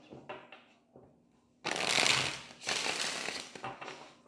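A deck of playing cards is shuffled at a tarot-style reading table, with a few soft taps and riffles, then two loud, dense bursts of riffling close to the microphone, alone with no talk.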